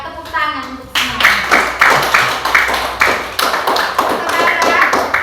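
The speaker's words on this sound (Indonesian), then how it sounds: "Tepuk tangan untuk semua." A classroom of students bursts into rhythmic group clapping after a short pause, the steady beat of many hands continuing loud and close throughout.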